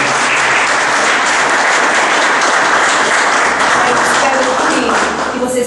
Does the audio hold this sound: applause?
yes